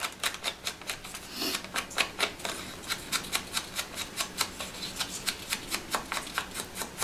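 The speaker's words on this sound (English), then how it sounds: "I'm going to try the envelope punch." A paper envelope punch board used on patterned scrapbook paper gives a rapid series of sharp, crisp clicks and snaps in an even rhythm, close and fairly loud.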